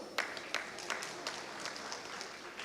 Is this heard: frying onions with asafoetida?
no